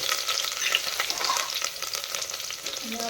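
Cumin seeds and chili pieces fry in hot oil, giving a steady bright crackling sizzle with occasional sharp pops, close and fairly loud throughout.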